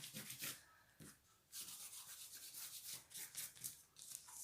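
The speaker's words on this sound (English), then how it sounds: "I will continue rubbing all of this in" Purple paint is rubbed into a mixed media tag, giving soft scratchy strokes of brushing friction in uneven bursts, close and fairly quiet with brief pauses between passes.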